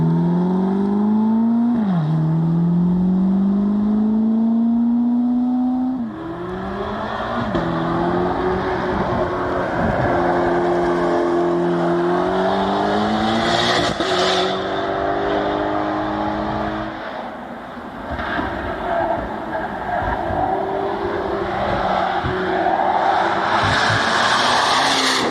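A Corvette V8 with a flat-plane crank accelerates hard, its engine note climbing through several rising gear pulls with sharp tonal sweeps and brief drops between shifts, loud and close, with tire squeal and road roar underneath.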